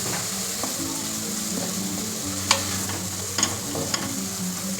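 Sweet potato leaves fry in a pan with a soft, continuous sizzle, a few sharp clicks from stirring, and a low background hum.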